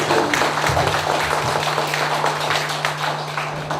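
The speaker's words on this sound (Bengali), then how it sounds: "আপনারা কৃতজ্ঞতার সঙ্গে একটি করতালি দিয়ে মুখরিত করুন এই হলটিকে" An audience in a lecture hall gives a sustained round of applause for a professor, a dense, even wash of many hands clapping that stays loud throughout and tapers slightly at the end.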